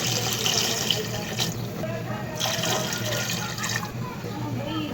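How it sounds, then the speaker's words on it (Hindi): Water is poured from a glass into a cooker holding beef paya, a steady splashing stream that continues without a break for several seconds, heard close by with a voice talking over it. "अब हम डाल लेंगे 4 गिलास पानी डालकर हम रख देंगे।"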